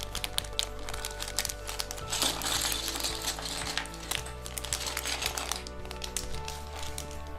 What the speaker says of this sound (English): Then let's tear it so we can easily get all the pieces out.